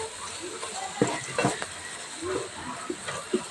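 Chili powder is stirred into tomatoes frying in a pan, giving a soft steady sizzle with scattered scraping clicks from the spoon.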